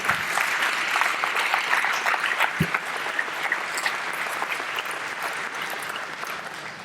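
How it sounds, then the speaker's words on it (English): A crowd at a Boys State closing ceremony applauds steadily, the dense clapping strongest at the start and slowly thinning and fading toward the end, with one brief low thump partway through. "round of applause for Jake Moran in the back"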